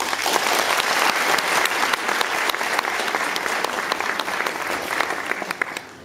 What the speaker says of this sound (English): So I will ask a great applause for Professor Luborić